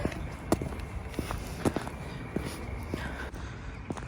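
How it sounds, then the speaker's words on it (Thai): Thick-soled boots walk along a street in a steady, soft thudding rhythm of close footsteps, with faint background ambience and no talking. "พอเดินเนี่ยจะได้ยินเสียงกุ๊บกับกุ๊บกับกุ๊บกับเนี่ย คือเสียง เสียงเท้ารองเท้าจอยจ้ะ"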